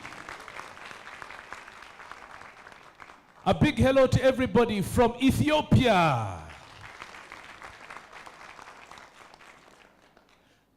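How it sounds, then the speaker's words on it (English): An audience at an official pandemic-preparedness project launch applauds in a short burst of clapping, with a speaker talking before and after it. "Let's give a big round of applause to Djibouti"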